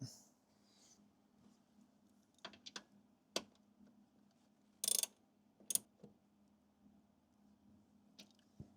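A ratchet tightens a fastener on a Fisker Ocean in a quiet space, heard as scattered, fairly close clicks and clunks with pauses between them.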